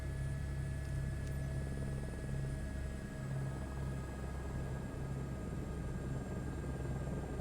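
Helicopter turbine engine in Microsoft Flight Simulator 2024 running down after shutdown, a steady low drone with a faint high whine and rotor hum, continuous and even at low level with no voices.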